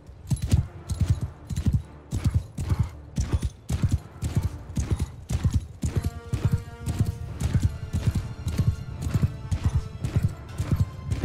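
Horses gallop in Mount & Blade 2: Bannerlord, a steady run of loud, close hoofbeats with an occasional whinny, carrying on through the whole stretch over a busy battle backdrop.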